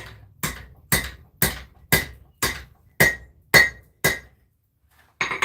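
A hammer striking hot metal at a forge while working a twist, nine sharp ringing blows at a steady rhythm, close and loud, then a pause before another strike begins.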